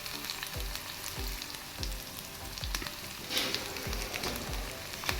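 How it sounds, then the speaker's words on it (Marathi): Garlic frying in hot oil until reddish, a steady close sizzle with rhythmic low thumps of stirring at about one per second, alone with no talk. "जरा लसूण लालसर होऊन जायचं."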